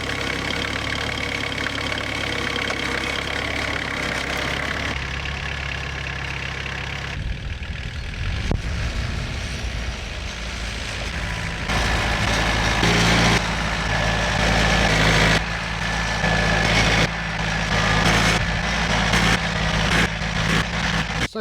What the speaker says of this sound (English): So much nicer turning over the ground with a tractor compared to a rotavator